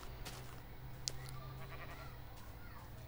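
A Minecraft sheep gives a brief bleat early on against a constant low hum of game ambience. A couple of soft clicks follow, and there is no talking.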